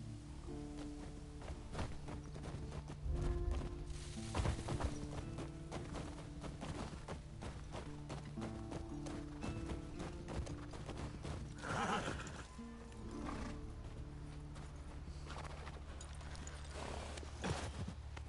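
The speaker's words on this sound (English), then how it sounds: "Yeah, we got horses." Horses in The Last of Us Part II, with repeated neighs and whinnies over steady clip-clopping hooves, fairly close and continuing throughout amid faint rustling.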